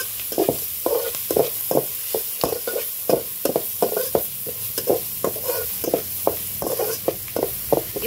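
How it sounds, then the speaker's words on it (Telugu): A spoon stirs chili powder and salt into a wheat flour vegetable noodle mixture in a pan, a steady rhythm of repeated scraping strokes over a soft sizzle, close and clear. "ఇప్పుడు ఇవన్నీ బాగా కలుపుకోవాలి"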